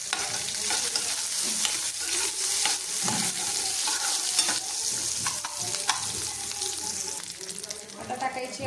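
Chopped onion and crushed garlic cloves sizzle steadily in a hot pan, with a constant close frying hiss and the scrape of stirring throughout.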